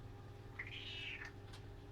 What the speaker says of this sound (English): And we get a cat.